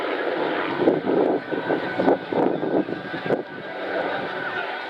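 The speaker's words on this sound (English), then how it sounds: "Single engine light helicopter with four-bladed main rotor used for personal transport" A Hughes OH-6 Cayuse light observation helicopter, a single-engine machine with a four-bladed main rotor, flies at an air show, its loud, steady engine roar and rotor wash swelling and pulsing close by.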